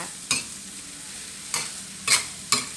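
Stir-fried mixed vegetables with crispy pork are scooped from a hot pan onto a plate: four distinct scrapes and clanks of a spatula ring out at uneven intervals over a soft, continuous sizzle.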